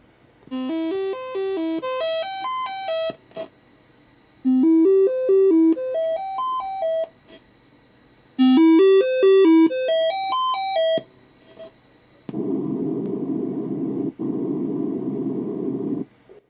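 Retro chip music from a faulty SID sound chip with a dead noise channel plays bright arpeggiated electronic beeps in three short phrases, then switches to a harsh buzzing noise tone, with no voices.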